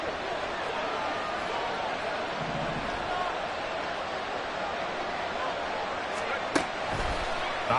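A loud, steady roar from a stadium crowd at an NFL American football game between Miami and New England fills the air continuously, with a few sharp thuds near the end.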